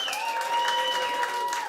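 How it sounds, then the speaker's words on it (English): Audience applause at a tech summit awarding a vote for a contestant named Johnson; steady mid-level clapping throughout, with a sustained tone and faint talk underneath. "Johnson, everybody, applause."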